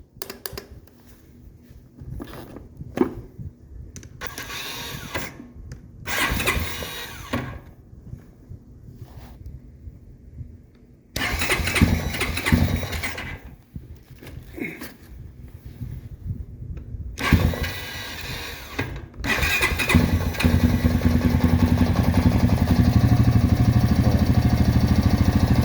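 A Honda Rancher 350 ATV with a newly installed starter, cranking close and loud in repeated bursts with brief gaps, then a steadier engine drone holding through the final seconds.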